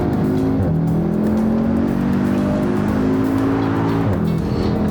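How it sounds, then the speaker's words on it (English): A 2015 Audi TTS driving with a steady engine drone that climbs in pitch as it accelerates through gears, close and loud, though backfiring pops and spitting are not clearly distinct. "And now in the TTS you have this backfiring,"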